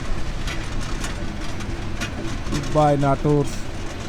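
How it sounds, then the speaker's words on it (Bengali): Kurigram Express passenger train running, heard as a steady rumbling drone throughout, with someone speaking briefly over it near the end. "যে আসলে ট্রেন চলছে, দুই পাশে মাঠ, মাঝখান দিয়ে ট্রেন চলছে"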